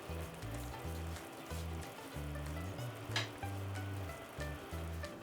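Ingredients for Filipino chicken tinola sizzle in a pan over high heat, making a steady dense frying hiss with faint stirring scrapes and a low hum underneath. The sound is moderately loud and close, with no talking.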